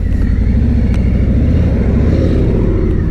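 A Harley-Davidson Freewheeler 114 trike's V-twin engine drones steadily and loudly while riding, with a close, continuous low rumble and wind noise.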